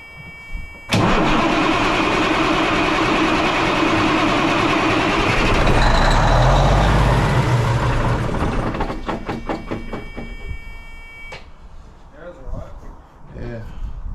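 A Peterbilt truck engine cranks on ether, then catches and roars loudly close by with a steady heavy rumble. After that it settles into an uneven idle with sputters, and voices talk over it.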